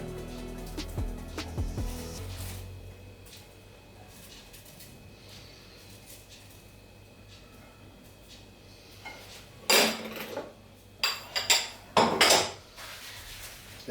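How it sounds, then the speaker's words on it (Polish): Croutons are tossed onto a Caesar salad with chicken, giving a few short, crisp clattering hits near the end after a quiet stretch of faint kitchen room noise. "przygotowane wcześniej grzanki wrzucamy na sałatkę"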